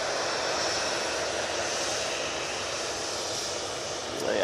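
A TUI airliner at Manchester Airport roars steadily nearby, a broad continuous engine rumble and hiss holding at full strength throughout.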